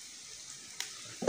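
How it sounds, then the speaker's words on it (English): Sausages browning in a frying pan give off a soft, steady sizzle at low volume, with a brief clatter near the end. "let's leave that a little bit so our sausage can be browned up"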